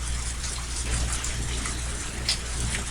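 Torrential rain in the Higurashi When They Cry visual novel, a dense steady hiss of downpour with a low background hum, continuous and even throughout, no voices.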